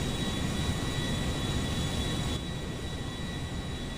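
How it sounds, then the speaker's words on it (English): Airplane that nearly catches fire makes an emergency landing, a constant loud roaring engine drone with broad noise that holds steady and drops slightly in level partway through. "a plane that nearly catches fire makes a dramatic emergency landing"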